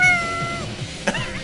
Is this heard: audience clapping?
no